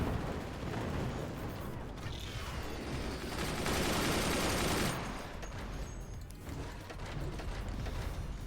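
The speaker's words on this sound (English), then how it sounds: "their offense is entirely relying on mortars" Loud, dense barrage of in-game weapons fire and explosions in the physics-based fort battle game Forts, mortar volleys booming continuously and swelling to a heavier burst midway before easing, with no talk over it.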